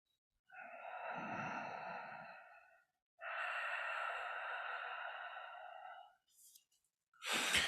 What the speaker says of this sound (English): you might actually be making a sound of breathing